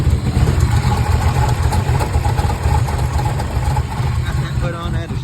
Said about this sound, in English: Seems like it's actually idling a little bit better.